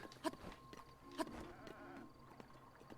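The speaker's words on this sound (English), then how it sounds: "It's just a goat." A goat in The Legend of Zelda: Breath of the Wild bleats twice in short, nasal calls about a second apart. Faint game ambience sits underneath, and no one speaks.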